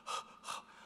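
A voice imitates heavy panting, two quick, breathy gasps for air, close and fairly soft, as if struggling to breathe underwater while scuba diving in a strong current.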